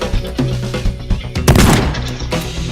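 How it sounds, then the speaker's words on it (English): A shotgun fires in the video game Teardown, one loud close blast with a short crackling tail, among rattling and thudding in-game sounds. "I'll shotgun out there"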